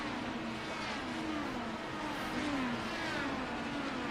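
IndyCar race car engines at Watkins Glen in the iRacing video game, a steady high droning whine with pitch sweeping up and down as cars pass through the bus stop chicane, under continuous broadband track noise.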